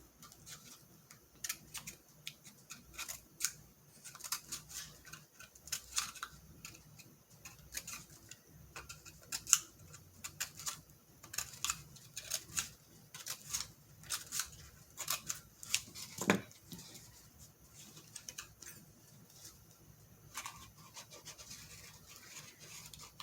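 Scissors snip through craft material in a steady series of small crisp cuts with light scratching and rubbing between them, close and quiet, with no talking.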